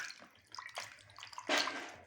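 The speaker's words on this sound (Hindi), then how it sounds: "ये सिरके वाले पानी से धोएंगे एक दफ़ा हम" Fish pieces for pakora being rinsed by hand in a bowl of vinegar water, with soft splashing and sloshing that swells into a louder wash of water near the end.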